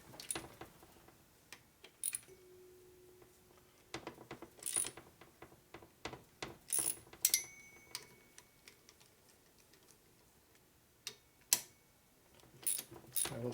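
A cylinder stud being threaded into an S&S 113ci Evolution Harley motor, giving close, irregular metallic ratcheting clicks and ticks in bursts with short pauses, alone without talk.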